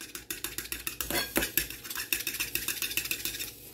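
Eggs whisked in a bowl with a utensil, a fast steady run of bright clinking taps against the side, close and clear, with no talking.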